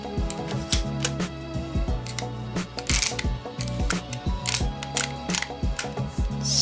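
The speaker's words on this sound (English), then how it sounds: "the second pin pushes down there in there and activates the shutter of the camera" Mechanical clicks and snaps from pins releasing and then tripping the shutter of a Fotosniper camera, a Soviet rifle-style camera kit, heard as a close series of sharp ticks and clunks over background tones.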